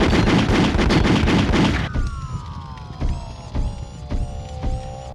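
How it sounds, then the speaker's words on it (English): Loud, dense burst of rapid game gunfire, then a series of sharp separate shots ringing out over a descending electronic whine. "Gunshots lack punch"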